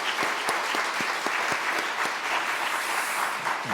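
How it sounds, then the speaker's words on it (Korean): A church congregation at a New Year prayer meeting claps in encouragement for ordained deacons, dense sustained applause with a few louder individual claps standing out near the front. "우리 안수 집사 위해서 격려의 박수"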